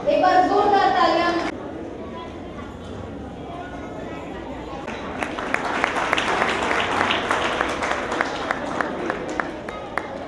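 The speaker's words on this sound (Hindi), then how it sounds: "एक बार जोरदार तालियां" At a dance competition in Ghazipur, a voice talks briefly, then after a short lull the audience breaks into loud, dense clapping that builds and carries on for several seconds.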